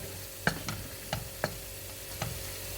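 A spoon stirs leeks and eggs frying in a pan, giving five or six distinct scraping clacks at an irregular pace over a soft, steady sizzle.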